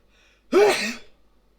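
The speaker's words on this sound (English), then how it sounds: "I'm gonna sneeze soon" One sharp, close sneeze bursts out after a moment of quiet, then fades quickly into silence.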